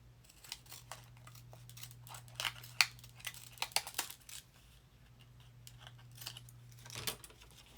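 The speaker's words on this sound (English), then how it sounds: "I think I'll cut it with these decorative scissors." Decorative paper-edging scissors snip through paper in a series of short, crisp cuts, close and fairly quiet, with brief pauses between snips over a steady low background hum and no talking.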